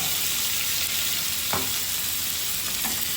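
Onion paste fries in a hot pan with a steady, dense sizzle, and a couple of brief stirring scrapes break through the constant hiss.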